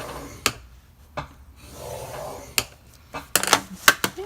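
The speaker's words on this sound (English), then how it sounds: "you're going to score it 1/4 inch from each side" A sheet of paper being scored on a craft scoreboard for mini treat bags gives several sharp, short scraping strokes, alone and close by, spaced irregularly with quieter rubbing between them.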